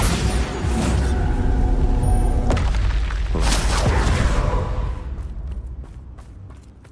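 Booming spell explosions from the Bombarda charm in the Hogwarts Legacy video game, heavy low rumbles that swell and roll on for several seconds amid magical combat effects, then fade away.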